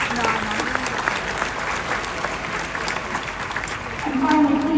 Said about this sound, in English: Please join me in a round of applause to thank our outstanding faculty, staff, and administrators